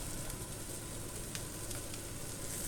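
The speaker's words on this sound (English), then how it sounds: "Get that frying around." Garlic sizzles steadily in a hot pan while stuffed capsicums are prepared, a constant close hiss with no talk over it.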